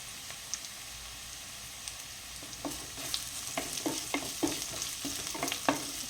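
Mutton masala frying and sizzling in a pan, with sharp crackling pops as fresh washed curry leaves drop into the hot oil, bursts growing busier and louder toward the end over a steady hiss.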